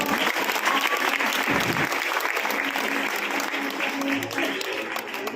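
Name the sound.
audience applauding at a Christmas skit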